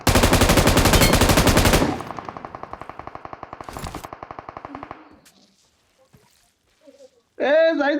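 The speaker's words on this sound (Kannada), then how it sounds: "ಹಾಕ್ರಿ ಮಿಷಿನ್ ಗನ್ ಅಲ್ಲಿ ಹಾಕ್ರಿ." Machine gun fire in the video game BGMI: a loud rapid burst, then a slower string of shots that fades out, followed by a short spell of quiet and a voice speaking at the end.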